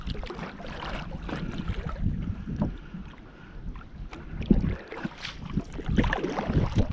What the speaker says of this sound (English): Got a little bit of wind coming at me here.